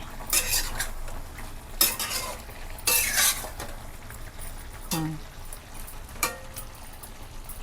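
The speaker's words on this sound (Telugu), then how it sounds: "చికెన్లో వాటర్ దిగుతుంది చూసుకుని మధ్య మధ్యలో తిప్పుకుంటూ ఉండండి" Pepper chicken fry is stirred in a pan as its water cooks off, with bursts of metal spoon scraping and clanking against the pan in irregular strokes over a soft background sizzle, close up and without talking.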